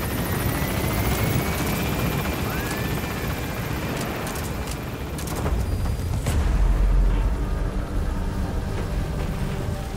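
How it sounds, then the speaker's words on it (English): Helicopter lifting off in the video game Metal Gear Solid V: The Phantom Pain, a loud, close, continuous rotor roar with engine whine that surges briefly midway. "Exfiltrate out of the hot zone by chopper or on land."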